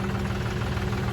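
Diesel tractor engine runs steadily in a river, a low, even rumble with a mild knocking throb, moderately loud and with no voices.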